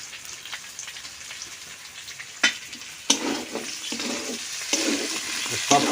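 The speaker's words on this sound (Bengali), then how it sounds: "সব কয়টা তেলে ভাজার পর কষায় নিলাম।" Cinnamon, black cardamom and cloves sizzle in hot oil for a chicken curry, a bright crackling fry broken by sharp scrapes and clacks of stirring close by.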